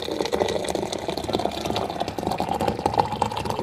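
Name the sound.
boiling water poured into a teapot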